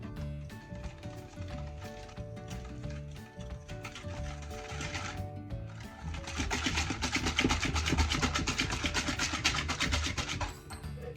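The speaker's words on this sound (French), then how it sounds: "Et je vais commencer à mélanger le tout." A mixer churns banana tart batter with sugar and vanilla sugar, giving a steady mechanical whir with a rhythmic rattle that grows louder and denser halfway through.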